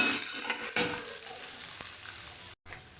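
Onion frying in a pan, a steady close sizzle with a few stirring scrapes, cut off by a brief gap near the end.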